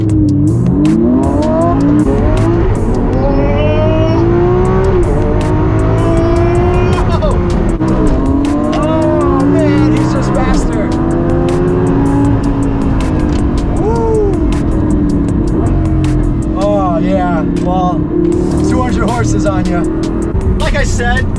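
A Lamborghini SVJ and a Super Trofeo Stradale accelerate hard side by side in a drag pull, loud engines climbing through rising and falling revs with gear changes, close and continuous.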